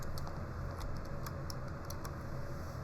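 Quick bursts of keystrokes on a computer keyboard as a command is typed in drafting software. The clicks come irregularly over a faint steady background hiss, close but quiet, with no voices.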